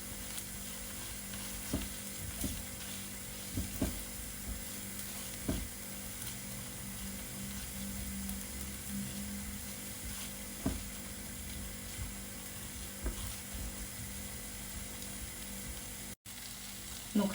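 Tomato paste frying in a pan, a continuous even sizzle with occasional soft clicks and taps of a utensil, close and steady for the whole stretch.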